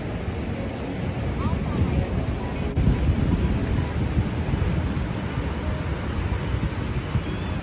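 Ocean surf breaking on a beach where a Cane Corso dog meets the sea, a loud continuous roar of waves and wind buffeting the microphone with a deep rumble near the middle, no voices heard.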